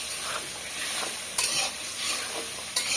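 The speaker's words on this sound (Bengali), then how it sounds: "আর এটা একটু ভালো করে কষাই নি।" Potatoes and taro (kochurmukhi) are sautéed in a pan with a continuous close sizzle, broken by a few sharp clatters of the stirring spoon against the pan.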